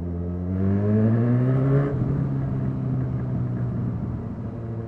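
A loud moped engine revs hard, climbing steeply in pitch for about two seconds before settling into a rough, rattling drone close by, with no talking.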